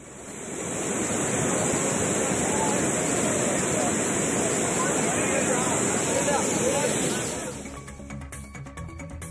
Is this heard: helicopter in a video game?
no